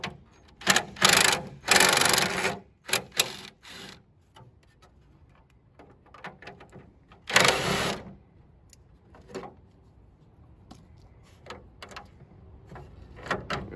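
A 13mm socket pulls bolts off the grille of an OBS Chevy K1500 truck, giving bursts of ratcheting and clicking at close range. Quieter taps and rattles fill the pauses between them.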